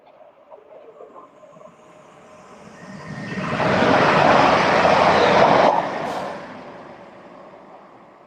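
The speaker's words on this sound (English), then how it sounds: "The train now approaching platform 2 does not stop here." A non-stopping train passes through platform 2 at Acton Bridge station, building from a distant rumble to a loud, broad roar that holds for a few seconds and then fades away.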